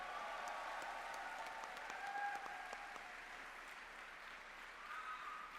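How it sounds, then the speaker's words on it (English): Steady applause from an audience at a business talk, a dense patter of many hands clapping continuously at moderate level without pause. "Let's have a big round of applause."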